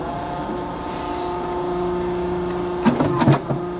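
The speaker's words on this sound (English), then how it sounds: "cuts the pieces out with a 10-ton clicker" A 10-ton clicker press cutting boot insole pieces in a footwear workshop: a steady machine hum runs throughout, then a short cluster of sharp, loud press strikes lands near the end.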